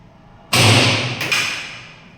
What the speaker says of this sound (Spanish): damos aquí el impulso inicial al proyectil con este mecanismo.